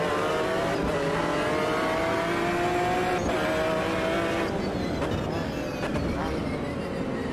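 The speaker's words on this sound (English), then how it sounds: "Just hearing the downshift on that Porsche into there as well sounded great" Porsche 911 race car in the Automobilista 2 racing game at Daytona, its engine note droning loud and close throughout, with pitch sweeping down through a downshift and rising again as it accelerates.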